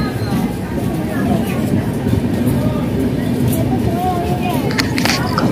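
The last coach of the Padatik Express rumbles past on the rail line, a continuous loud low roar with faint clanks and a voice speaking over it.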